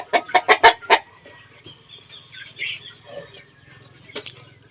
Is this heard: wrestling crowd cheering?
no